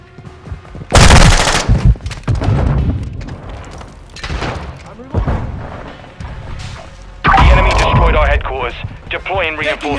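Gunfire in Call of Duty: Modern Warfare II comes in loud bursts of rapid shots and booms, broken by quieter gaps, with in-game voice callouts over the action.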